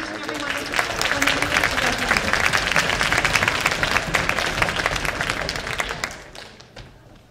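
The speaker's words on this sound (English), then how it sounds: "one more round of applause for my students" Dense audience applause fills a school spring concert hall for the students' performance, loud and sustained for about six seconds before thinning into a few scattered claps.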